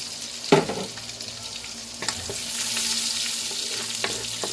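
Garlic fries in a pan for chopsuey with a bright, steady sizzle, punctuated by a few clanks and scrapes of stirring, close by and without talk.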